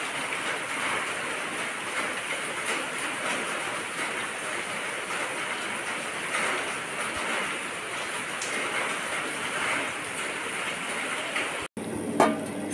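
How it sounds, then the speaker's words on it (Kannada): Steady rain falling near a house that is easing off, a continuous even hiss of drops lasting throughout with one brief cut near the end. "ಮಳೆ ಈಗ ಮೂರಲ್ಲಿ ಈಗ ಸ್ವಲ್ಪ ಕಡಿಮೆ ಆಯಿತು"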